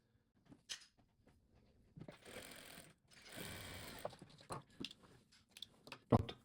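Sewing machine stitching a seam on a quilt bedspread with batting, heard in short mechanical bursts of whirring with brief pauses and handling clicks between runs.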